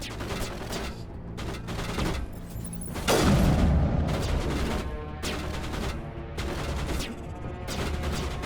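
A grenade blast in the Mass Effect game sounds as a sudden loud boom that rolls out for a moment, set inside ongoing rattling gunfire and combat noise, with no clear talk over it.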